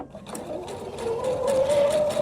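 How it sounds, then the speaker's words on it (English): A sewing machine stitching a quarter-inch seam in quilt fabric, a fast, even whirring patter with a rising motor whine, close and continuous. "just sew that 1/4 inch seam all the way down"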